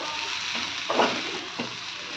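Masala with coriander powder fries in a pan, a steady hiss with a couple of brief stirring clicks partway through.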